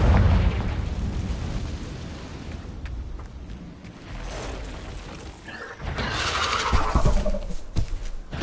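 The Confringo fire spell from the game Hogwarts Legacy sets off a loud, close explosive burst, followed by a roaring crackle and rumbling debris over a continuous game soundscape.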